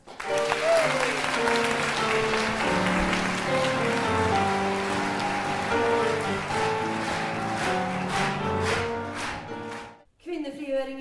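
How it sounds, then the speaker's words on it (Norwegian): Audience applause at a March 8 Women's Day cabaret event in Moss, steady and full, clapping continuously for about ten seconds before cutting off, with a brief voice afterward. "En applaus."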